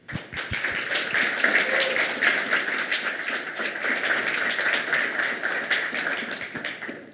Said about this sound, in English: a big round of applause to all of them, please.